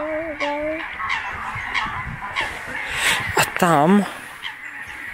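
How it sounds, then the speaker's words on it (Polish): A goose honks at a nature reserve near a Cistercian monastery, a few rising nasal calls and then a louder wavering honk close by, with people talking quietly around it. "tutaj na prosto nas jest gąska, która sobie siedzi."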